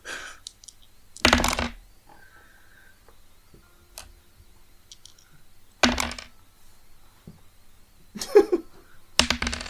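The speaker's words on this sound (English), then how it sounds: "There's a lot of dice sounds I'm hearing." Many dice are rolled during a tabletop game, with several separate bursts of clattering rattles on a table spread over the stretch. Quiet ticks and small knocks fall between the loud rolls, and nobody talks.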